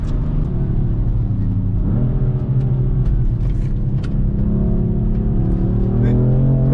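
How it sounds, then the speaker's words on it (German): A BMW M4 revs and accelerates hard on a snowy road, its engine note loud and close and climbing in pitch, with brief dips at gear changes and a steady rising drone throughout. "Ich gebe Gas."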